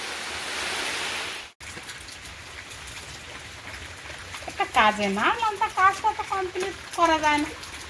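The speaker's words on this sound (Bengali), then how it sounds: "বজ্র বিদ্যুৎ সহ বৃষ্টিপাত যেটাকে বলা হয় সেটাই হচ্ছে এই বৃষ্টিতে" Steady rain pours down during a thunderstorm in a rural Bengal village, a broad, even hiss. It breaks briefly and then keeps falling while voices talk over it in the second half.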